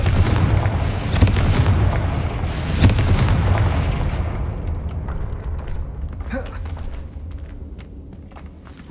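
Booming explosion from the Confringo blasting spell in the game Hogwarts Legacy, a loud, heavy rumble that swells at once and then fades slowly over several seconds, with a few small crackles in the tail.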